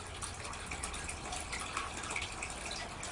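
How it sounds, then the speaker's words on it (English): Steady rushing and trickling water from a turtle tank filter runs continuously, a constant splash with no pauses, moderately loud and close. "I'm sorry about the filter noise in the background"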